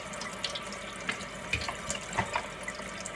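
Tap water running into a kitchen sink while something is rinsed out, a steady splashing stream with small clinks and gurgles, close by.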